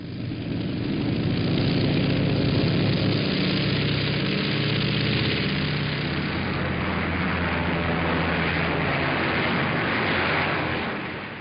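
Droning bomber aircraft engines as a wartime radio drama effect, a steady loud roar with a low rumbling hum that holds for the whole stretch without any voices.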